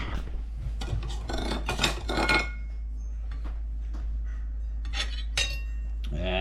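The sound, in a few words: knife cutting cornbread on a plate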